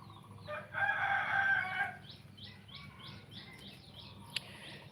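A rooster crows once loudly and nearby, a long drawn-out call, followed by a run of short, repeated bird chirps against a quiet outdoor background.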